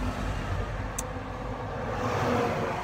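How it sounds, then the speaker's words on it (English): Heavy lorries rumble past on a nearby road, a continuous loud low engine and tyre roar that holds steady and swells slightly toward the end, with no speech. "Wait for the lorries to go past."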